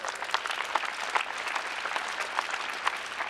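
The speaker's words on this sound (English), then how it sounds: "let's have a little bit of applause for her" An audience at a leadership summit on economic growth claps steadily, a sustained wash of applause at moderate distance, with no voices standing out.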